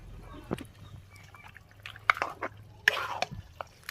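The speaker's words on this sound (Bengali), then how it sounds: "এরপর সম্পূর্ণ মাংসটা আমি দিয়ে দিচ্ছি।" Meat is tipped into a pan of cooked spice masala, giving sparse, quiet wet plops, drips and light clatter in short bursts.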